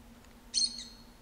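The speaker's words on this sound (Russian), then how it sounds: "Птичка." A short bird chirp from the video game Virginia, a single bright tweet rising clearly over a quiet low hum of background ambience.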